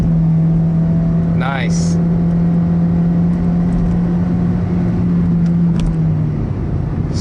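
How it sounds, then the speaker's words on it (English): A 2014 Honda CR-Z EX engine holding a steady hum inside the cabin after a kick-down to first gear, with a brief rising whine and a short word spoken over it. "So I just kicked it down into first, and it actually skipped 2nd gear."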